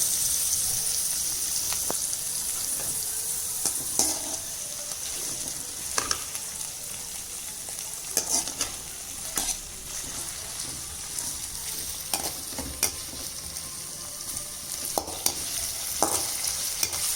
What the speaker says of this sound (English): Saute for a short duration and then add ginger and garlic paste.